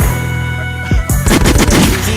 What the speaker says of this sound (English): Bellinger, my gunshots are really adding to this.